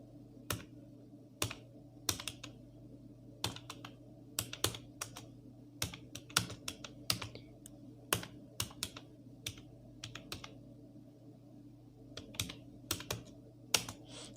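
Keys clack on a computer keyboard in an irregular, moderately paced run of crisp taps over a steady low hum, close by and with no voices.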